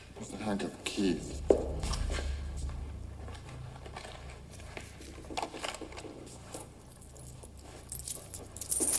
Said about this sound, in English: Where's the handcuff? Keys.